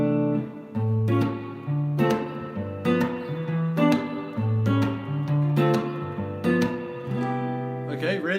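A jazz chord progression that includes a minor third chord, played as a series of sustained chords with clear attacks roughly every second, steady and close for about eight seconds.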